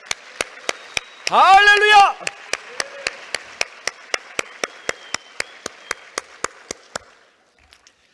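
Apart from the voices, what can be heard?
congregation clapping in church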